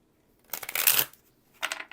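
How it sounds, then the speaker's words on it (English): A deck of Shamanic Healing oracle cards is shuffled in two close bursts of riffling and sliding card noise, the first longer, with a quiet pause between them. "I'm going to go ahead and shuffle the Shamanic Healing."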